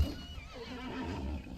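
Horse whinnying in the video game Conan Exiles, a loud close neigh with a wavering, quivering tone lasting over a second, with no talk.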